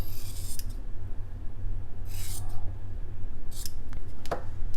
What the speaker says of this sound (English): the scissors is going to seal the seam